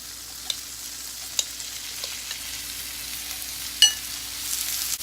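Shrimp fry in butter in a hot skillet, giving a soft, steady sizzle throughout with a few sharp pops and spatters, one louder crackle near the end.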